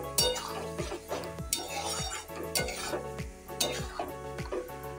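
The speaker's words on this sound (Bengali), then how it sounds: "আমি আরেকটু নাড়িয়ে চাড়িয়ে নিচ্ছি।" Mung dal cooked with pointed gourd gets stirred in a pan, the spoon scraping and clinking against the metal in repeated strokes over a soft sizzle, close up.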